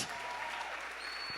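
A church congregation claps in steady, fairly distant applause, a dense even patter of many hands filling the room without any voices standing out.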